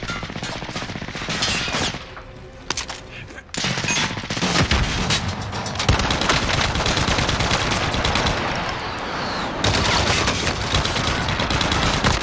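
Sustained rapid automatic gunfire from a RAAL MG light machine gun in Call of Duty: Warzone, loud and continuous with brief pauses, set in a dense game soundscape.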